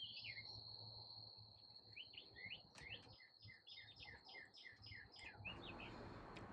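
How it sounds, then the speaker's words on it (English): Birds tweet in a garden with a busy run of rapid high chirps and trills, some near and repeated in quick bursts, over a steady insect-like hum and low outdoor rumble. "I can hear the birds tweeting"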